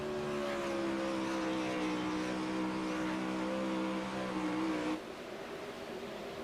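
360 sprint cars race on the Bristol dirt track, a loud, dense engine roar with a steady high whine that drops away sharply near the end, heard from close by with no talk.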